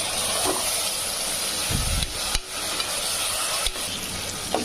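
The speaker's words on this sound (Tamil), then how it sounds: "தக்காளி ஒன்று பொடிசாக கட் பண்ணி வச்சுருக்கேன், அதையும் இதில் சேர்த்துக்கலாம். இது நல்லா வதங்கட்டும்." Chopped tomato sautés in a pan for mutton donne biryani, giving a steady, close sizzling hiss with a few brief stirring scrapes and knocks.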